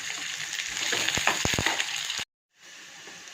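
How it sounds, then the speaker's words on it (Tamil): Onions and curry leaves sizzle and crackle as they sauté in hot oil on a stove, a steady frying hiss broken by a few sharp pops, then a brief silence before a softer sizzle resumes. "கருவேப்பிலை, தாளிக்க வெங்காயம் போட்டு வதக்கலாம்"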